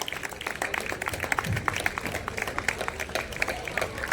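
An audience claps at a community award and honors ceremony, with steady, moderately loud applause of many hands that continues without a break.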